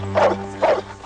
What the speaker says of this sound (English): Here they're almost savaged by a killer dog.